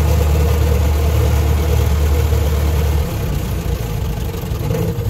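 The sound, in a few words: Ford Model T engine running after shifting into high gear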